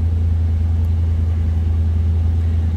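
A 1991 Ford Mustang LX convertible's 5-liter V8 idles with a steady, deep low rumble, loud and close, with no voices over it.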